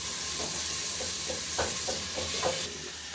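Ginger and garlic fry in a pan with browned onions, a steady hiss of sizzling oil broken by several scraping strokes of a spoon stirring them, heard up close with no speech.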